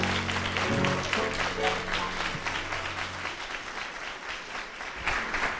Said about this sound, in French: vous avez aimé, vous avez applaudi